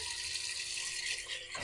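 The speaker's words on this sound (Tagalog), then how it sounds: "So lagyan po natin ng tubig." Tap water pours steadily into a pressure cooker holding beef for caldereta, a continuous close splashing rush lasting under two seconds with no talk.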